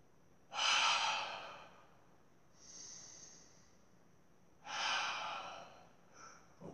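Deep breathing during a workout: two long, loud, close exhales with a softer breath between them, each a breathy rush lasting about a second, with no talking.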